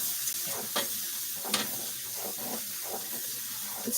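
Thyme sizzling in a very hot pan while being stirred, a soft steady hiss with a few brief scraping strokes of the utensil, close and low in level, without speech.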